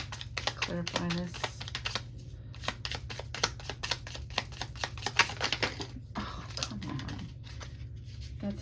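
Tarot cards are shuffled again and again in quick riffling bursts, close and crisp, with soft rustles and taps between them.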